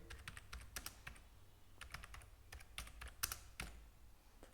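Keys clack on a computer keyboard while a plugin name is typed into a search box, giving a quiet, close, irregular patter of keystrokes in short bursts.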